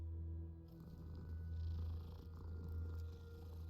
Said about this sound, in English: Gotta pet the cats.